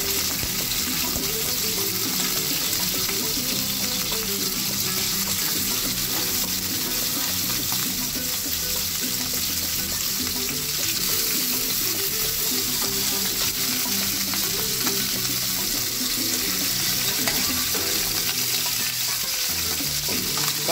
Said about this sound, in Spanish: vamos a ir sacando mollejas para hacerlas a la plancha y que queden doraditas